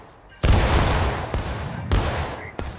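A musket volley in War of Rights, a Civil War–era battle game: a loud, ragged crash of many muskets firing at once, followed by several more staggered booming shots with rolling echoes over about three seconds.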